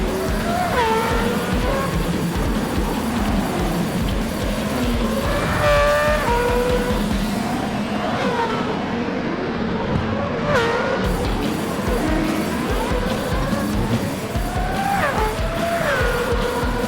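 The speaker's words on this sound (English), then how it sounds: "Begging my car to push it to the max one last time" Mazda 787B race car in Gran Turismo 7, played in VR during an online race: a loud, continuous rotary engine wail climbs and drops through the gears, with brief tire squeals, and no talking.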